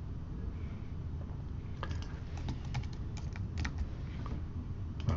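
Close keystrokes on a computer keyboard come in an irregular run of light taps over a quiet background hum, with no voice.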